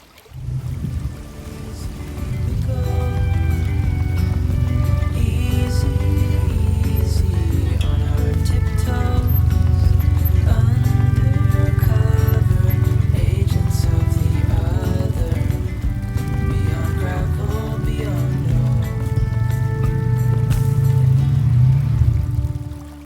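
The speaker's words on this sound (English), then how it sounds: "We're going to get out there now on the ATV and see how well it actually does." An ATV rolls across a handmade log bridge over a stream, its engine giving a loud, steady low rumble with scattered knocks and clunks over the whole crossing.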